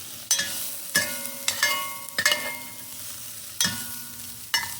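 A tablespoon of tomato paste cooks in a pan. Sharp spatula strikes against the metal come every second or so, each leaving a brief ringing tone above a soft, steady sizzle, with no voices.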